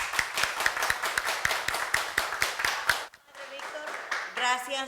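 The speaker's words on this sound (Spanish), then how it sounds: "y los recibimos con fuertes aplausos." A studio audience on a Catholic television program claps in a brisk, even rhythm for about three seconds before the clapping stops and a voice speaks over a brief tonal sound.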